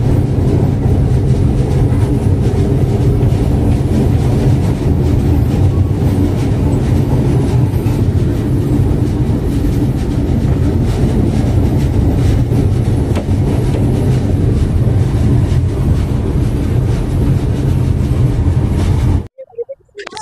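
A train rumbles loudly and steadily across the Jamuna rail bridge with a rattling clatter of wagons for a long stretch before the noise suddenly cuts out.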